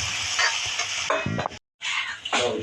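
Chopped onions frying in a pan for homemade kulchas, a close, steady sizzle with stirring scrapes and a brief dropout.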